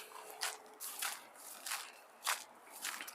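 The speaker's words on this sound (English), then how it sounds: "Maybe you'll hear a difference in what the leaves sound like as I'm crunching through here." Footsteps crunch through dry leaves in a quiet outdoor spot, about six separate crisp crunches in an uneven walking rhythm, close and fairly faint with no talking.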